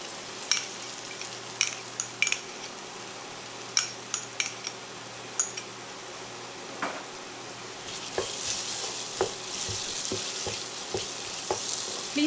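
Onions that have turned golden brown sizzle steadily in a pan on medium heat as ginger garlic paste goes in, with a spoon clinking and scraping while it is stirred, the frying growing louder toward the end.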